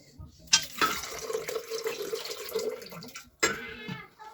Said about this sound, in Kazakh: Біз соковыжималкаға су құямыз